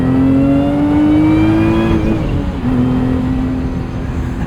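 A 2024 Lotus Emira with a six-speed manual revs hard, a loud steady engine tone climbing in pitch for about two seconds, dipping briefly at a shift, then holding a strong drone.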